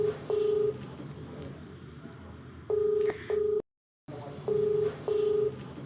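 Touch-tone keys beep while a telephone number is dialed: separate steady tones in pairs and singles, with a short stretch of full silence between them over a low background hiss.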